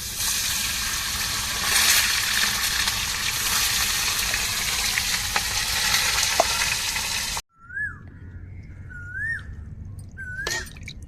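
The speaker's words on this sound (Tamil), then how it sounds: "அதுக்கப்புறம் நண்டை அப்படியே வரட்டிடுவோம்" Crab being fried in a pan gives a loud, close, continuous sizzle for several seconds, then it cuts abruptly to quiet surroundings with repeated rising bird whistles.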